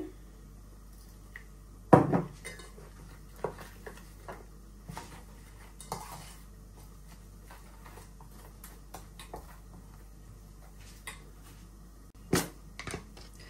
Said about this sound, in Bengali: এই যে এখন বেটারটা গুলায় নিতেছি।